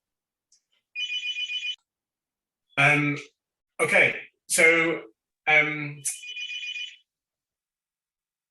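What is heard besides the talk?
telephone ringing in the background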